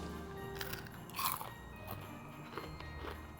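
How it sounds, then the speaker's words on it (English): A few crisp, quiet bites into cinnamon sugar caramel popcorn, with one sharper crunch near the middle and softer chewing crackles after, close to the mic. "Now listen to the crunch."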